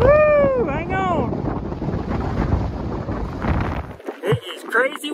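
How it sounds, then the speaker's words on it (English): Strong wind buffeting the microphone in a continuous roar on a dusty, treeless stretch of road in Arizona, with a voice speaking briefly at the start and again near the end. "It is crazy windy"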